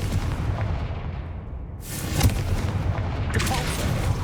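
Confringo fire spell exploding in the Hogwarts Legacy game, a loud booming blast about halfway through that rolls into crackling bursts over a constant low rumble of game ambience.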